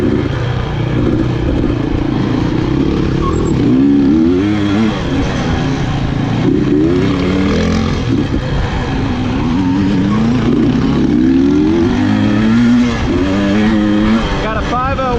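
A 250 two-stroke dirt bike ridden through a field section with KTM bikes ahead, its engine loud and close throughout with rising and falling revs and a constant buzzing drone.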